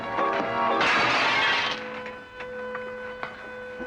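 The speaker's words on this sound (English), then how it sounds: "You busted Lily's looking glass." A looking-glass mirror smashes in a 1940 western film, a loud burst of breaking glass followed by fainter tinkling fragments and clatter as it settles.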